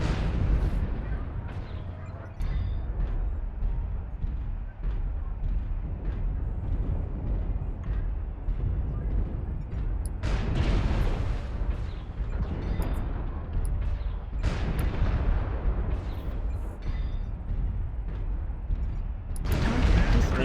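Artillery strike explosions in a video game boom heavily over a continuous rumbling bed, with several sharp, loud blasts spread out across the stretch.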